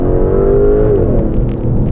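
An Aston Martin DB11 V12 at full throttle, a loud, close, sustained engine and exhaust roar heard from inside the car, its pitch climbing and then levelling off.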